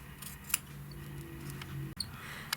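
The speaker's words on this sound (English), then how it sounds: "take little bitty snips as you go along" Small scissors snip fabric over flex foam in a few quick, crisp clicks, close and fairly quiet, spaced irregularly over low background hum.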